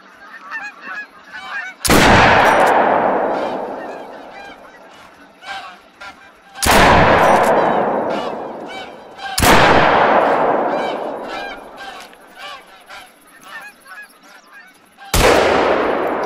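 10-gauge shotgun blasts boom four times during goose hunting in The Hunter: Call of the Wild, each loud report trailing off slowly, while geese honk repeatedly between shots.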